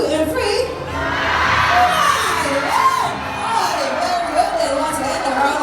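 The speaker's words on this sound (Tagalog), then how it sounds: "Once again, a round of applause, please." A crowd at a bird and animal aquarium in Davao cheers and shouts continuously, with children's voices whooping over a dense, loud wash of excited noise that swells and holds without pause.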